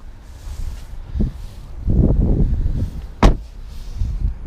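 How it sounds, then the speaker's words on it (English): The power sliding door of a 2018 Chrysler Pacifica Touring L Plus runs with a low mechanical rumble and rustle, then closes with one sharp latching thunk, followed by a faint settling sound. "We got the power sliding doors."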